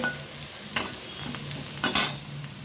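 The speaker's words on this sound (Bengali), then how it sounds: "এই তেলের মধ্যেই আমি এখন লম্বা লম্বা করে কেটে নেওয়া ঝিঙেগুলোও দিয়ে দেব।" Potatoes and ridge gourd fry in hot oil with a steady sizzle. Brief scraping stir strokes cut in twice, and no one speaks.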